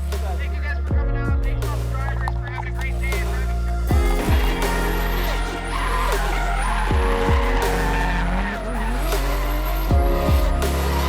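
Drift cars at a Final Bout event rev hard and squeal their tires in repeated long skids, loud and nearby, with engine roars rising and falling between slides.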